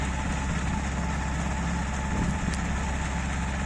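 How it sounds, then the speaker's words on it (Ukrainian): A tractor engine runs steadily in first low gear while sowing oats with a precision seeder, with a low, continuous rumble and no change in pace throughout. "Хоч працює трактор на першій пониженні."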